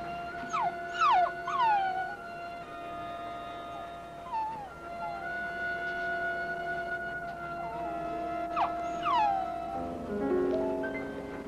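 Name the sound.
dog howling and whimpering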